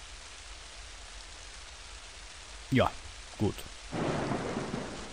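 Steady rain and rolling thunder from the video game Little Big Adventure 2 fill the background, with a couple of short thunder bursts and then a louder wash of rain and rumble near the end. A voice speaks briefly over it.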